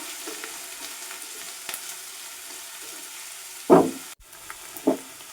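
Onions stirred with a metal spatula while frying in a pan, a quiet steady sizzle with two louder scraping strokes near the end.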